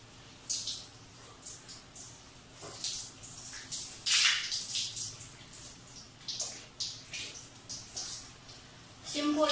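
Water runs from a tap in a small bathroom during hair washing, with splashes and gushes coming in irregular bursts and a quiet voice briefly audible underneath.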